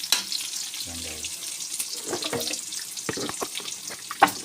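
Beef being sautéed in a pan for pancit, a soft steady sizzle with scattered stirring clinks and scrapes throughout, fairly close, with no talk over it.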